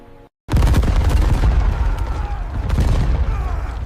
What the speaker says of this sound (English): The guns of Saint-Marc opened fire.